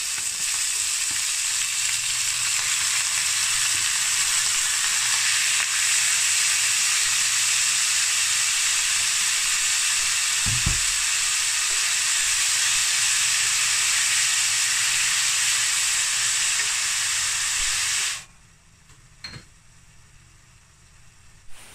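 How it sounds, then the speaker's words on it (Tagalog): Pork meat sautéing in a pan with pepper and oyster sauce for menudo, a loud steady sizzle and hiss running unbroken for about eighteen seconds, with a faint stir scrape midway, then cutting off to near quiet. "Naglagay na ako ng paminta at oyster sauce habang ginigisa ito para kumapit na ang lasa sa karne."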